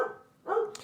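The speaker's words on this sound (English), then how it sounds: "My dog is barking." A dog barks just outside a door, two short muffled barks that are brief and moderately close.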